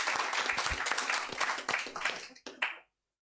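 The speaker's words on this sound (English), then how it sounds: "Give them a round of applause." Audience at a Brisbane Cardano blockchain summit applauding panelists, brisk close clapping that thins out, with a few last claps before it cuts to silence.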